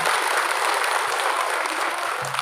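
Audience applause at a community event in Abra, a dense steady clapping that holds at even loudness for the whole stretch with no voices over it.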